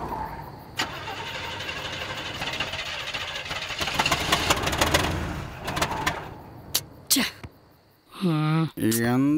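A vehicle's engine runs with a rough, knocking drone and then falters and cuts out. After it dies there are a few brief noises, and then someone speaks up close.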